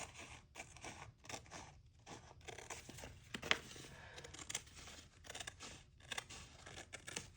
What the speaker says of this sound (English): they're a little bit sharper, the fabric scissors, and I'm not cutting the paper